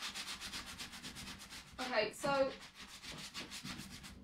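Rhythmic back-and-forth strokes of sandpaper rub across painted wooden furniture doors, close and steady, with a brief spoken phrase breaking in partway through.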